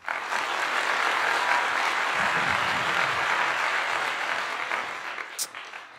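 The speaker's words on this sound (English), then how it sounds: "So round of applause for that." An audience at a talk breaks into sustained applause, loud and dense for several seconds before thinning out toward the end, with no speech over it.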